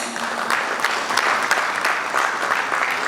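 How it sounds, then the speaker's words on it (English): Applause from an audience at a bank's product unveiling, a dense steady clatter of many hands clapping for about three seconds, fairly loud and close with no speech over it. "A round of applause."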